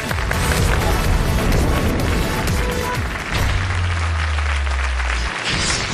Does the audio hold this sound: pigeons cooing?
no